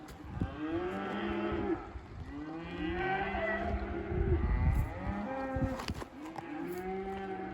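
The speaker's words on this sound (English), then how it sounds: "long trail of cows" A long trail of cattle moves out during a forest permit gather, with repeated drawn-out moos from several cows overlapping and following one another at moderate distance over a low outdoor background.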